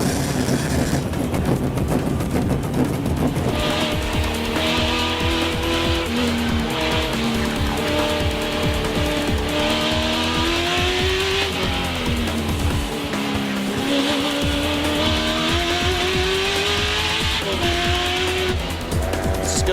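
Race car at Denver Raceway roaring continuously at high revs, the engine pitch rising and falling through gear changes and corners, loud and close throughout with no talk.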